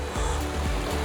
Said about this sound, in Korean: 지금 이 찰랑거리는 바닷물 소리 들리세요?